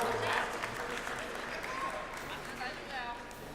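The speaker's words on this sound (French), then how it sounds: "applaudissez-le également" Applause from a crowd for Adam, a contestant at a 1-2-Switch challenge event at Japan Expo, a short burst of clapping and cheering under an announcer's speech.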